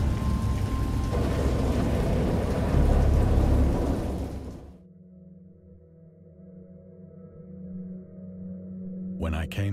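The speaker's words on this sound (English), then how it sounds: "下雨了。" A storm in the Lovecraft game Dagon: heavy rain and deep thunder roar loudly for several seconds, then abruptly drop away to a quiet low drone, with a short sharp noise at the very end.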